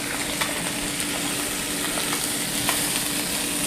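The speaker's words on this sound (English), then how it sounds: "So how long do we have to sizzle this chicken?" Chicken sizzles steadily in a hot pan, a dense, continuous frying hiss with occasional pops, loud and close.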